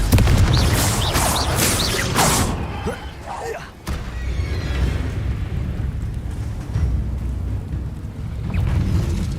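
A Confringo explosive spell cast in the Hogwarts Legacy video game, booming with loud rumbling blasts and crackling bursts over steady low roar, a sharp impact near the middle, under game sound.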